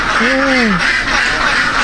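A duck on a prison farm gives a couple of loud, close quacks in quick succession against a steady background hum.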